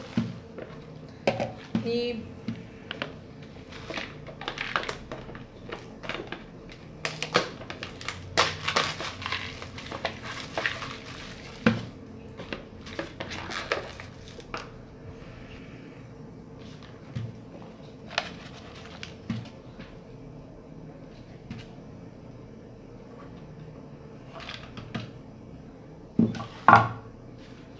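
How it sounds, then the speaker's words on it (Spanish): Instant shrimp soup cups being uncovered and chopped chili added, with crinkling lids, clinks of cutlery and dish taps scattered irregularly over about half a minute while a person talks throughout. "Ahora vamos a destapar nuestras sopas y le vamos a colocar un poco de este chile ya picado"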